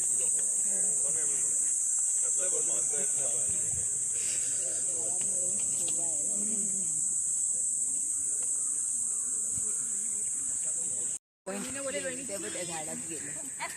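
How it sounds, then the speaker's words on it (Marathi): Crickets chirp in a national park on a morning walk, a steady high shrill drone that carries on continuously while people talk nearby. "रातकिड्यांचा"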